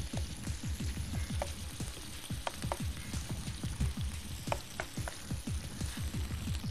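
Small pieces of boneless chicken fry with ginger and green chilies in hot oil for chilli parotta, a close, continuous sizzle packed with rapid crackling pops and no voices.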